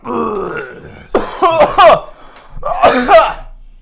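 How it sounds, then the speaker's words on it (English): A person coughs up close in several harsh, throaty bursts: a rough rasp at first, then two clusters of forceful coughs separated by a brief pause. "No, that's just how I cough."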